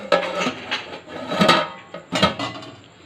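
A metal lid is set onto a cooking pot holding red berries (kul) soaking in hot water in a village kitchen, giving a few sharp clanks and knocks, close and fairly loud, with no talk.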